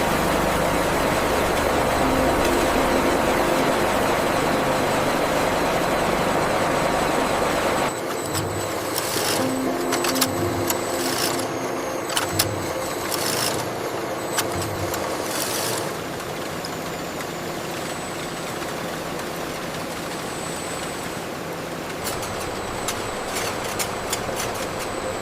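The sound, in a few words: yarn winding machine for carpet making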